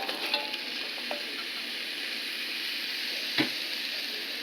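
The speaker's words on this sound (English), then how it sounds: "I'm going to set this at 350 degrees right now while I cook my onions" Onions fry in a pan set to 350 degrees, giving a steady, even sizzle throughout with a couple of faint clicks and one brief knock, and no talking.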